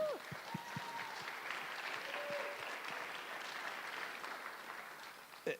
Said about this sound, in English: so we can clap for her.